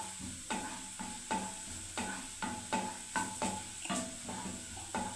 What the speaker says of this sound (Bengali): ভালো করে আমি আগে রসুনটাকে ভেজে নিচ্ছি বন্ধুরা।